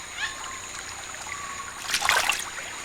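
A jaguar wades into rainforest water to fish, producing soft trickling with a burst of splashing near the end, moderately close over a faint outdoor background.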